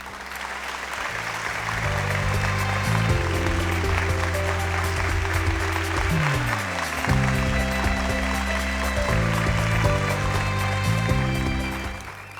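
A studio audience at a televised Eid special comedy and poetry show applauds as performer Inayat Ali Khan is introduced, with steady clapping under loud, sustained stage music.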